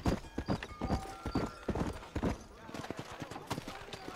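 Horse hooves clip-clop in Red Dead Redemption, an irregular run of close, distinct hoofbeats with a player talking over them.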